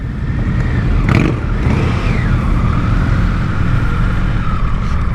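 Several motorcycles, a Ducati among them, ride together on a group outing, engines droning loud and steady with rising and falling revs, heavy wind buffeting close to the microphone.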